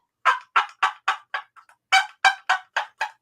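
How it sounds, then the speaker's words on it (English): A turkey hen clucks in a rapid series of sharp, evenly spaced calls, about ten in all with a brief pause midway, loud and close. "This is the hen clucking."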